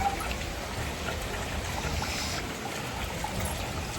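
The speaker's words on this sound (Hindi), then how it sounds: "देखियो बारिश पड़ने से दिक्कत नहीं है" Rain falls steadily on a house porch, a dense, even hiss of drops that stays at a constant level throughout with no voices.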